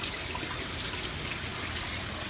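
Water pumped up from a sump into fish tanks in a backyard duck-and-fish aquaponics setup, a steady trickling and splashing flow that runs continuously at moderate loudness with no voices.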